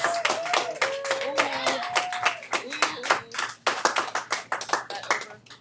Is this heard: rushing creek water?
no